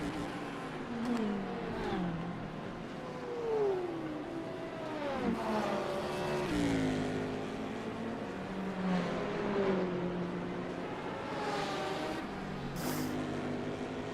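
Race cars in a sim racing game circle the Sebring circuit during a 1000-mile endurance event, engines revving and shifting with sweeping pitch glides as several cars pass close and loud, continuous throughout with no talk.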